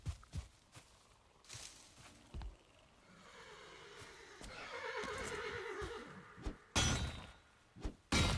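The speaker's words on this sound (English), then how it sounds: "Lots of horse noises going on." A horse in the Valheim video game neighs and whinnies through the middle of the clip, a sustained wavering call, with sharp clattering game hits and hoof-like knocks around it.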